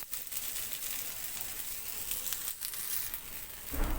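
Oil sizzles steadily while beetroot paratha tikki fry in a pan, a continuous close hiss with faint crackles throughout, no talking.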